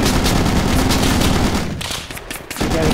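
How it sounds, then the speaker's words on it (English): Loud automatic gunfire in a Squad firefight on the Karbala map, with close, rapid machine-gun bursts that dip briefly near the end before picking up again. "We're taking shots from the south."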